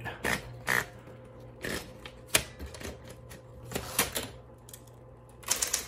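Keys striking on an early 1960s typewriter: a close, loud run of sharp mechanical clacks at an uneven typing pace, with short pauses between bursts and no voices.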